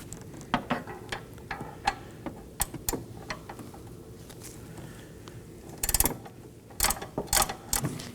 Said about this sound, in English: I'll be using a box end wrench.